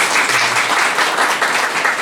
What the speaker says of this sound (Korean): 우리 박수 한번 더 해주시죠.